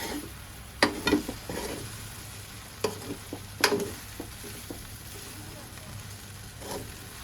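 Green vegetable pulao stirred in a pan after lemon juice is added, with scattered scraping and clinking of the spoon over a low, quiet sizzle.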